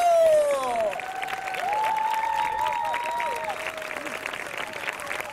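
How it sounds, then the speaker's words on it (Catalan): Audience applause at a theatre performance, crowd clapping mixed with cheering and shouts, with voices whooping over a steady wash of clapping for about five seconds. "Un fort aplaudiment per la llibertat, la democràcia, la revolució i la repressió."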